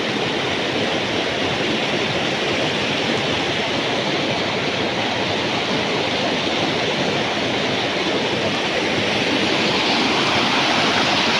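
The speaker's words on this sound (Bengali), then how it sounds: "এবং জলের স্রোত খুবই ভালো আছে, এখানে জলের আওয়াজও পাওয়া যাচ্ছে।" Steady, full rush of a flowing stream with strong current at an outdoor spot, loud and continuous throughout with no voices, a broad even wash of water noise from close by.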